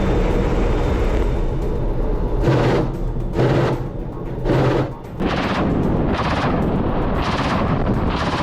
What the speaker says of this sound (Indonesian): Satu persatu target diserang secara brutal dengan tembakan-tembakan mematikan dan granat yang dengan sengaja dijatuhkan.